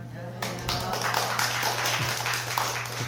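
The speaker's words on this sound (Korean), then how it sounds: "박수까지." Applause from a temple audience at a Buddhist dharma talk, a dense wash of clapping that begins abruptly and carries steadily over a low constant hum, with no voices on top.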